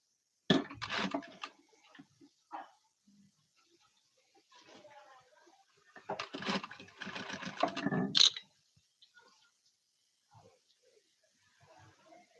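A sewing machine edge-stitches the neckline of a Punjabi dress in short, rapid rattling bursts separated by pauses, each run clattering loudly close by, with a person talking between and over the stitching.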